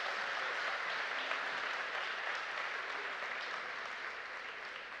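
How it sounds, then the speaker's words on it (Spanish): Church congregation at a Sunday service applauding, a dense, even wash of many hands clapping together, sustained and moderately distant, slowly tapering toward the end. "Un aplauso para ustedes."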